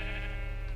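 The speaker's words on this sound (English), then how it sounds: "I killed a sheep." A sheep in the video game Minecraft gives a single short, close bleat with a clear, buzzy tone, heard alone.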